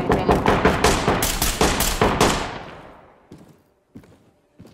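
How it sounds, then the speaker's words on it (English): Rapid bursts of loud gunfire in the video game Ready Or Not fire in quick succession, then fade out, leaving a few faint thuds and footsteps afterward. "I heard the gunshots."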